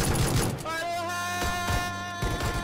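Pistol fire in PUBG, with sharp shots clustered at the start and a few cracks later, fairly loud and mixed with a sustained tonal game sound.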